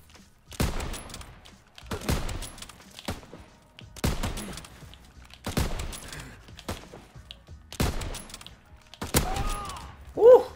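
Gunfire cracks out in a video game as six separate bursts of shots, spaced about every one and a half seconds, fairly close and sharp, with a short voice exclamation at the very end.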